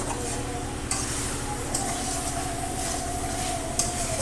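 Chicken curry with potatoes being stirred in a pot as the meat browns in oil, giving a steady scraping and stirring noise over a soft sizzle, with a few louder clatters against the pot and no talking.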